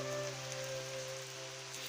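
Heavy rain falls in a steady, even wash of noise with a faint constant hum underneath, continuous and without voices.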